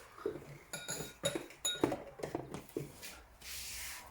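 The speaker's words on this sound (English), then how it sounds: "put the glass down and actually put my hand underneath and lift it up" A drinking glass being set down on a hard surface and lifted again during glass cleaning with Boom gel, giving a series of light clinks and knocks spaced across a few seconds, close and fairly quiet, with a brief wipe-like hiss at the end.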